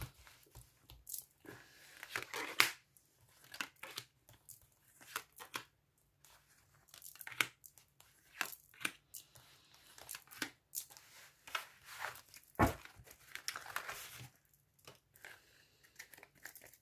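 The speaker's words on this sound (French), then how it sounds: "Allez, on y va, j'étale les cartes." Playing cards are spread across a table in a quiet room, giving soft scattered slides, flicks and papery rustles at close range with brief pauses between them.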